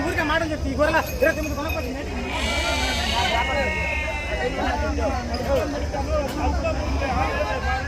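Sheep, mostly pregnant ewes, bleat repeatedly amid a busy outdoor crowd at the Gudur sheep market, with people talking and bargaining nearby and a general murmur of voices around them.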